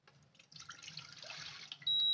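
Water pours from a container as kids make tea, a soft trickling splash that swells after a brief pause and runs on fairly quietly before a sudden louder burst at the very end.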